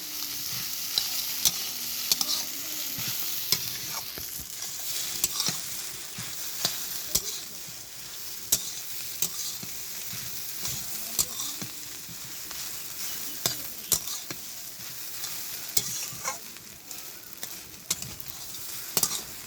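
Semolina halwa with fried nuts is stirred in a pan: a soft frying sizzle runs throughout, broken by repeated sharp scrapes and clicks of the spoon against the pan, with no speech.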